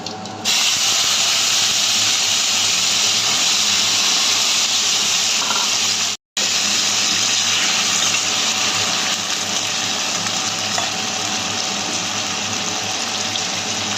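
Chalta (elephant apple) pieces frying in hot oil over a tempering of whole chillies and five-spice, a loud steady sizzling hiss that runs continuously with a brief cut midway.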